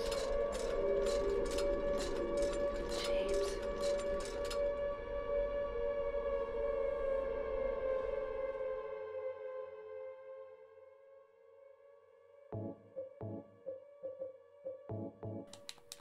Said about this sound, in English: There's the sound of the very familiar sirens.